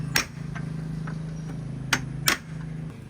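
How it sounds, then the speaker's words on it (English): A punch tool strikes a metal deck railing post, giving three or four sharp, ringing metallic hits spaced irregularly over a low steady hum, close and fairly quiet, with no voices. "we're even using the punch on the metal"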